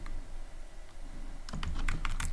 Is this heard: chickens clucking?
no